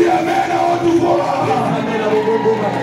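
Church congregation shouting and calling out together during a French-language sermon, a loud continuous mass of raised voices and cries with no clear pauses, filling the room throughout.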